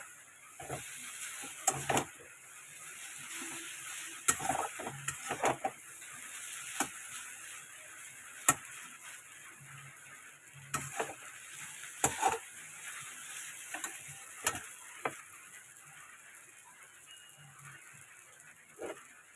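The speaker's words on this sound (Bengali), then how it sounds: "এই যে দিয়ে দিচ্ছি ম্যাগি মশলা, এটাকে ভালো মতো ভাজতে হবে।" Food fried with Maggi masala in a pan, with a soft steady sizzle under intermittent scraping and clattering stirs from a spoon, some sharp and close, spread across about twenty seconds.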